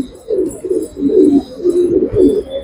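Pet pigeons kept by a fancier in Uruli Kanchan coo in a close, steady series of soft, throaty rolling calls, several phrases repeating back to back with no talking.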